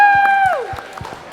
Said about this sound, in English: Scattered claps.